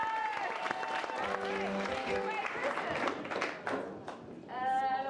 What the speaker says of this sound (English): Give Laura a round of applause.